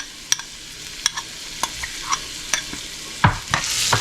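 Onions sautéing in a pan, with a few sharp stirring clicks and scrapes over a soft background sizzle that swells louder near the end.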